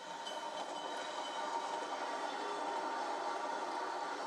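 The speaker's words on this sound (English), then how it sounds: "It's a returning suburban train." A suburban passenger train rolls past in a steady, continuous rumble with faint wheel clatter, no voices.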